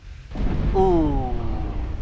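A loud, rumbling boom from a shell hitting a warship in the naval game Ultimate Admiral Dreadnoughts, a heavy low roar that swells and lingers, with a brief tonal whine sliding down through it.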